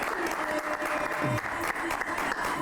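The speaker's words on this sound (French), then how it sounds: "On peut l'acclamer une fois de plus." Sustained applause and cheering from a studio audience for a rapper, a dense, steady wash of clapping that fills the whole moment without pause.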